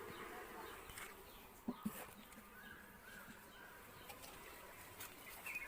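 Honey bees in a beekeeper's hive that has lost its queen hum faintly around the colony while feed is set out, with a soft steady drone and a few light knocks, no talk.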